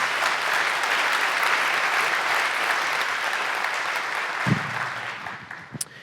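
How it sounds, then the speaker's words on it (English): A church congregation applauds to welcome a family during a morning service: dense, sustained clapping from a large crowd that holds steady, then thins out toward the end with a few scattered claps. "will you clap for the family this morning? Just welcome them."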